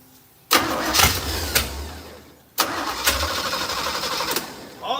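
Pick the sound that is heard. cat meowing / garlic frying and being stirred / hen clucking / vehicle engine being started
vehicle engine being started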